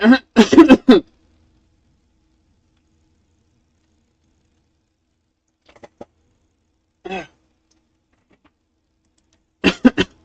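A person coughing near a microphone during a game development stream, a burst of harsh coughs at the start and then a few scattered short coughs and throat sounds separated by long silences.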